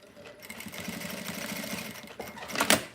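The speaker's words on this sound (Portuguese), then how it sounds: "eu gosto de fazer com um pontinho da máquina, um pontinho programado" A sewing machine runs a programmed decorative stitch, producing a close, rapid mechanical whirring rattle that holds steady for a couple of seconds before ending in a louder clack.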